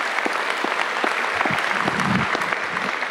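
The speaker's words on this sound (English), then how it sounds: "Just one big round of applause for those 3 wonderful student speakers" Sustained applause from a large commencement crowd fills the space, a loud, even wash of clapping with no talking.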